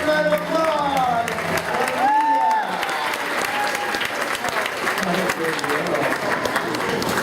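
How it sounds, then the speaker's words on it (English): Audience applause at a big cat rescue show, steady clapping from a crowd, with a speaker talking over the start before the clapping continues alone. "How about a great big round of applause?"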